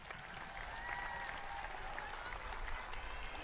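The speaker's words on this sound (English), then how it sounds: "let's give them all a round of applause" A crowd applauds at a 2022 high school graduation ceremony, steady dense clapping that carries on throughout, with some faint voices mixed in.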